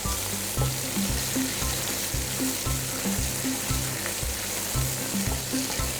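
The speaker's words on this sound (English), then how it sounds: "Give it a nice good stir." Beef strips and bacon sizzling steadily in a hot pan while being stirred, a continuous crackling fry with soft scraping, no voices.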